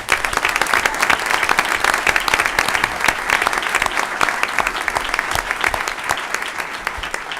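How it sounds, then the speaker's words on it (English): An audience at a school board meeting bursts into loud, sustained applause for Dishman school, dense clapping that holds steady throughout at close range. "Let's give them a big round of applause"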